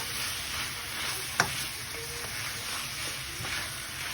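Shrimp and mixed vegetables sizzle and stir-fry in a wok over high heat, a steady close crackle with a single sharp scrape or clank partway through.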